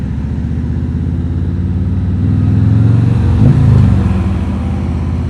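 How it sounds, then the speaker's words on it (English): Steady road traffic rumbles around a rider on a Harley-Davidson Road King Special at night, with a continuous low engine drone that swells as a nearby vehicle passes. It is loud and close, with no talk. "it's just continuously traffic, traffic, traffic"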